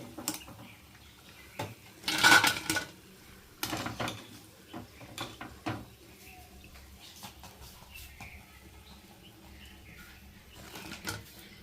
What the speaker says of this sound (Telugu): ఇప్పుడు మొత్తం తీసుకొని మనం ఒక బౌల్లోకి ట్రాన్స్ఫర్ చేసుకుందాము.